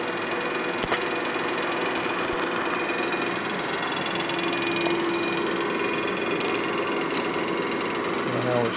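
A machining tool cutting on a Harley shovelhead big bore motor in a shop, a steady, loud mechanical whir and vibration running without a break throughout.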